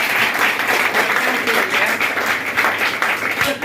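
Steady applause from a room of students at a Darbhanga coaching institute, continuous and fairly loud for the whole stretch with no break.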